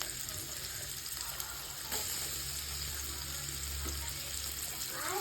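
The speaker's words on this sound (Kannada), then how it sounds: "ಎಣ್ಣೆ ಕಾದಿದೆ. ಇವಾಗ ಆನಿಯನ್ ಹಾಕ್ತಾಯಿದ್ದೀನಿ." Onions frying in hot oil in a pan for cauliflower palya: a steady, close hiss and sizzle runs throughout and grows slightly stronger partway through.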